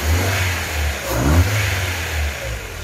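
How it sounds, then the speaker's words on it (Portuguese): A misfiring Ford Fiesta 1.0 8v engine revs unevenly, its low rumble stuttering and surging in rough pulses, close by with no voices. "Como é que ele rateia todo, ó."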